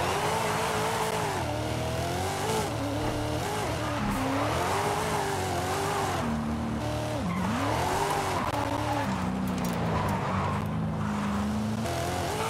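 A Mustang in a racing video game drives continuously with a loud engine drone that rises and falls through gear changes, with tire squeals and skidding in the second half, close and steady with no voices.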